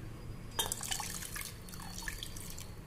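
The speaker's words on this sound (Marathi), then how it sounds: "इथं थोडंसं पाणी घालणार आहे मी।" A little water pours and drips into a pan of buttermilk kadhi, a light splashing trickle with scattered bright drops that rises suddenly and then tapers off.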